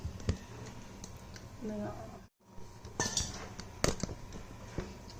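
Cooked rice for a bitter orange rice dish is tipped onto a plate to cool. Quiet scraping and a few sharp clinks of a utensil against the plate are heard, with a voice talking softly nearby.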